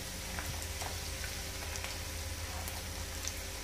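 Chopped ginger and garlic sizzling in oil in a pan, a steady soft frying hiss with faint crackles, fairly quiet and alone.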